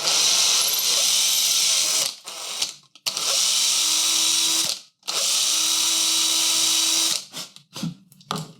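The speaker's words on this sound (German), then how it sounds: "bohre einmal hier diese Bohrung hier nach, wo später der Messingstab reinkommt" A power drill whines steadily in several bursts, re-drilling a hole for a brass rod in a model railway servo point motor, starting and stopping with brief pauses between runs, close and loud.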